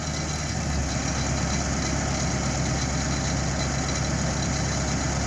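A TR 96 combine harvester with a plugged header idles nearby, a loud, steady low engine drone with a constant mechanical hum and no change in pace.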